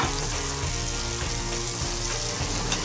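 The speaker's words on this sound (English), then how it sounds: "Hot pan, olive oil, baby onions." Baby onions frying in olive oil in a hot pan, giving a steady, dense sizzle that stays loud and even throughout, with no voices over it.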